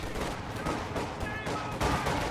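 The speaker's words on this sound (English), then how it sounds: "The enemy is firing on us." Enemy gunfire in a World War II strategy game, a dense crackle of rapid shots and bursts layered with battle noise, steady and loud throughout, with a faint voice mixed underneath.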